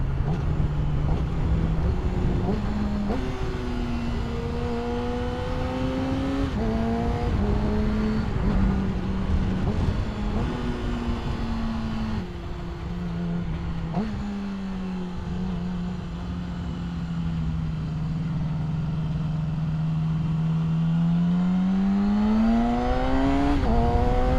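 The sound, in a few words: motorcycle accelerating with clutchless gear shifts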